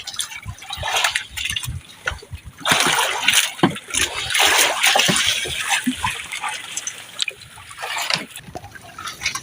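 Rain driven by strong wind over rough sea waves, with splashing water and gusting roar that swells loudly and stays close throughout.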